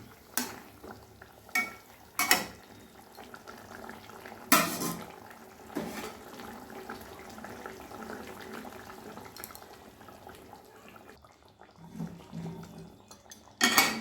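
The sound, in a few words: stirring katla fish into boiling curry in a pan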